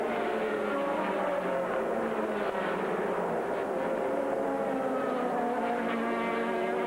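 Racing prototypes in the 2000 American Le Mans Series roar past in a steady, loud, continuous engine wash with shifting pitch as cars jostle for position.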